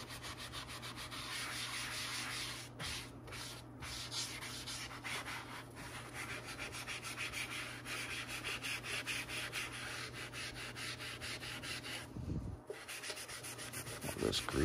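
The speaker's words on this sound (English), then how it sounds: "Like I said, this is sandpaper, so you have to be very careful with it." Sandpaper rubs steadily by hand across an arcade control panel overlay, a close, continuous gritty scrubbing in quick back-and-forth strokes with a couple of short pauses.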